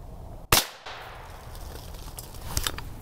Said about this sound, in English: First of all, 2 rounds of normal Winchester white box.